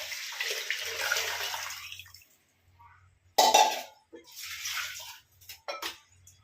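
Tamarind water poured into a pan for crab rasam, a splashing liquid pour in two bursts with a brief clink of a vessel between, close and fairly loud.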